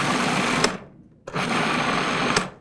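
A food processor pulses cottage cheese with arrowroot powder in two loud whirring bursts separated by a short pause, close and with no talking.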